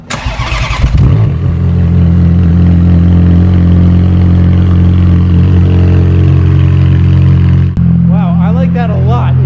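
A Ferrari F430 with its muffler deleted and straight pipes fires up, settling into a loud, steady, deep idle drone with a brief dip near the end, and a voice speaks over it.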